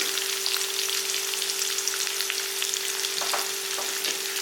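Garlic, curry leaves and shallots frying in hot oil, a dense close crackle of sizzling with light spattering pops and a faint steady hum beneath, no voices.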